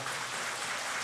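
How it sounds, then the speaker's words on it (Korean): Audience applause at a school circus, a steady dense patter of many hands clapping throughout, moderately loud and even, with no voices over it. "다시 한번 뜨거운 박수 부탁드리겠습니다"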